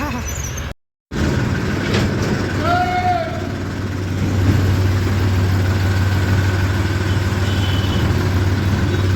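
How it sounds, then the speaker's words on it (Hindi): A tractor engine idles steadily nearby in a rural village setting, a continuous low drone heard after a brief dropout, with people talking over it. "गाड़ी स्टार्ट कर दी, ट्रैक्टर स्टार्ट कर दिया।"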